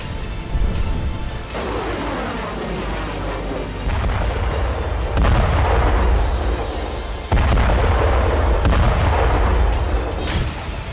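Artillery fire on the Russia-Ukraine front: several heavy, loud booms land one after another, each followed by a long rolling rumble over constant low background roar.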